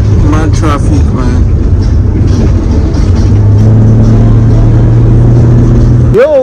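Road traffic on a highway between Nigeria and Ghana rumbles loudly with car engines, and a horn-like tone sounds near the end, while voices talk over the noise.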